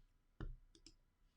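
A few crisp computer mouse clicks in a quiet room: one sharper tap first, then a quick pair of light clicks close together, heard near and alone.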